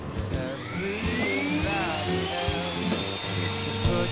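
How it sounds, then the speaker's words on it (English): A router carves a zigzag logo into a wooden chair backrest, its high whine sustained and steady throughout, with sweeping tonal shifts as the bit moves through the wood, over a low motor hum. "We used the router and did the zigzag logo for this project."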